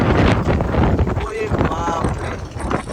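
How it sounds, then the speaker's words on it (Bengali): Strong, roaring wind of a dust storm at Vrindavan buffets the microphone in a loud, continuous rush, with a faint voice underneath. "হাওয়া দেখে বুঝতে পারছেন আন্দা তুফান এসে গেছে"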